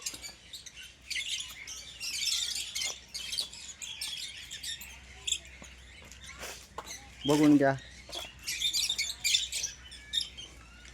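Fischer's lovebirds in an enclosure at Tirupati zoo give rapid high chirps and chatter in bursts, with someone speaking briefly partway through.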